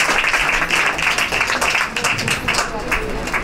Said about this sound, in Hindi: जोरदार ताली बजाएंगे सब लोग